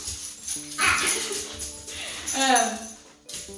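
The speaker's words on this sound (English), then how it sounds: "Those are my dogs." Dogs whimper, yip and bark in short bursts indoors, close and fairly loud, mixed with a person talking over them.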